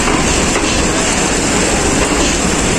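A Pakistan Railways train at Rawalpindi railway station gives a loud, steady, continuous rumble and rattle close by, with no voices.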